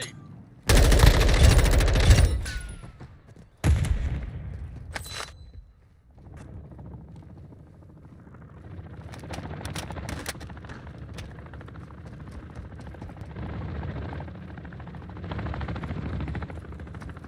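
Heavy gunfire in a combat shooter game, loud bursts up front followed by scattered distant shots under a steady rumble and mechanical hum.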